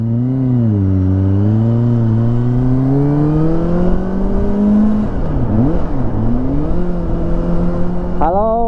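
A close Kawasaki Ninja ZX-25R engine fitted with a Japanese-made WRS racing exhaust drones and rises steadily in pitch with a deep, throaty exhaust tone, dips twice, then climbs again, loud and continuous.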